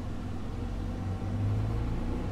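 A Valtra tractor drives along a field, giving a steady low engine rumble that stays close and constant throughout, with no speech.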